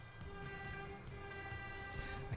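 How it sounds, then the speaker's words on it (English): A metro train in a video game script sounds a custom horn, a steady tonal blast held for the whole stretch over a low rumble of the train, close and fairly loud, with no talk. "So if you do train metro, it fires up the metro train. Also custom horns."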